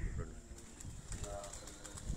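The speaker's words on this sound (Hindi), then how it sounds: "दोस्तों आप देख रहे हैं कि कबूतरों ने जो है वो उड़ान भर ली है" A flock of pigeons takes off from a rooftop in Sialkot under strong wind, with soft wing flutters and faint cooing over constant gusty noise.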